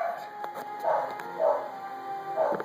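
Dogs bark and yip a few times in short, spaced bursts, somewhat distant, over a quiet room tone with a faint hum.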